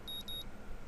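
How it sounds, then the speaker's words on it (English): Electronic alarm from the visual novel game Katawa Shoujo: three short high-pitched beeps in quick succession, clear and steady over a low background hum, then fading out. "The sound of an alarm pulls me out of a fitful slumber into the unpleasant state of wakefulness."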